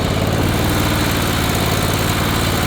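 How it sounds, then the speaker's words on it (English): A Ferris Z3X zero-turn lawn mower runs at close range, its engine a loud, steady throbbing drone with a pulsing low rumble and no pauses, as it sets out to mow tall grass. "let's go mow some grass and show you guys how it does."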